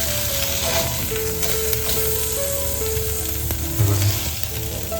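Stuffed pomfret frying in a pan gives a loud, continuous sizzle that holds steady from start to finish, with a slight surge of crackling near the end.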